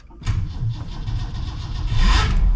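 A 1965 Lincoln Continental Convertible's engine turns over on a cold start, catching with a low rumbling churn that settles into a rough idle and swells louder toward the end, heard close with no speech.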